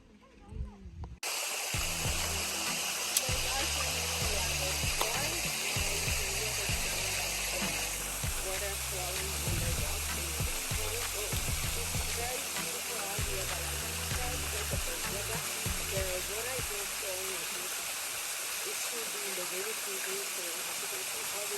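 A waterfall in a Ghana village during the dry season gives a steady, fairly close rush of falling water. It starts after a brief quiet moment and continues under a low, rhythmic layer of other sound.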